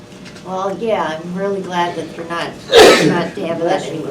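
A single sharp sneeze bursts out in the middle of a conversation, loud and close, with people talking before and after it.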